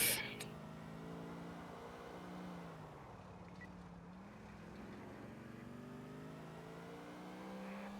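A Habanero SUV, rear-wheel drive, cruises in GTA 4 with a steady, low engine drone that sags briefly mid-way and then climbs again, quiet, with a voice speaking faintly over it.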